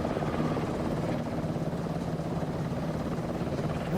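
A helicopter flying overhead, its steady rotor and engine roar loud and continuous with a low throbbing chop, nearby and unbroken for the whole stretch.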